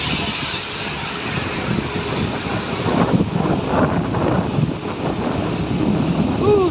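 A four-wheeled truck loaded with sand climbs past on a foggy, cold road after heavy rain, its engine rumbling and swelling midway under gusty wind buffeting the microphone.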